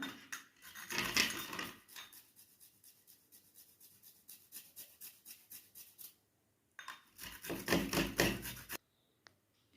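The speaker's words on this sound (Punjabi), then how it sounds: "ਤੇ ਆਪਾਂ ਆਲੂ ਨੂੰ ਗ੍ਰੇਟ ਕਰ ਲਿਆ" A raw potato is grated in two loud bursts of rapid, rhythmic rasping strokes, with quieter scraping and handling noises in between and no talk.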